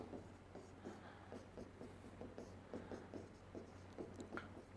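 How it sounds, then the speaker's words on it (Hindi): A teacher writing names during a human reproduction lesson, with a steady series of short, soft strokes close by and no talking. "मैं उसके नाम लिख रहा हूं"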